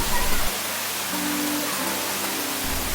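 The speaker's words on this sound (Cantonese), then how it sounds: "咁主瀑呢度呢，就係最壯觀嗰條瀑布啦，有30米高嘅。" The 30-metre main waterfall at Ng Tung Chai, swollen after rain, roars as a dense, constant rush of falling water, loud and close, with a faint voice briefly under it.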